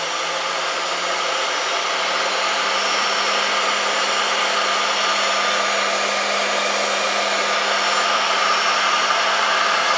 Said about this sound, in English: Spindle's running dead smooth.